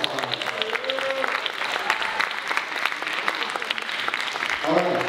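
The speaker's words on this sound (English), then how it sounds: "let's give him a round of applause" Live audience applause at a comedy variety show, a continuous crowd of clapping hands with a voice talking over it near the start and again at the end.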